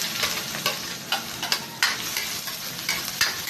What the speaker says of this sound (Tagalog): Sakotsa natin, idol, yan hanggang lumabas yung aroma